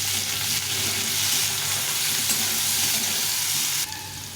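Potatoes and onions frying in a pan with salt and a little turmeric, a steady close sizzle with faint stirring scrapes, easing slightly near the end.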